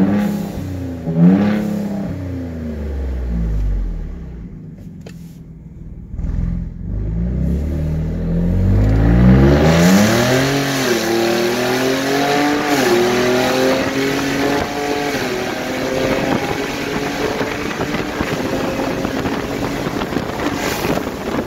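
A 2018 Ford Raptor with aftermarket performance modifications revs hard with the windows down. Deep rising engine sweeps repeat, then a sustained roaring acceleration follows with wind rush, loud and close, with no talking.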